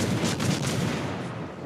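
Muffled torpedo explosions boom through a naval battle video game, heavy rumbling blasts rolling together in a dense, continuous barrage for under two seconds.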